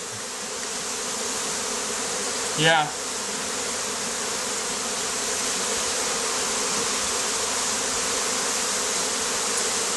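Honeybees buzz in a steady, dense drone throughout as a hive is smoked, with a brief louder swelling buzz and a short spoken word over the continuous hum.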